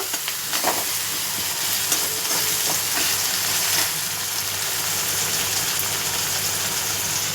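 Onion and tomato fry in a pan with a little salt, stirred steadily, giving a continuous close sizzle with occasional scraping, and no talking.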